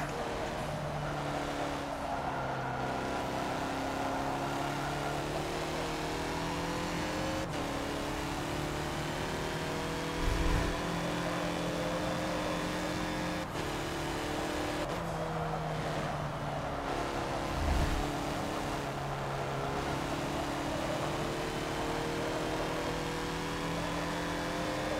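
A race car in the video game Forza Motorsport drives around a track, its engine holding a steady loud drone that climbs and drops with gear shifts throughout, with a couple of brief low thumps.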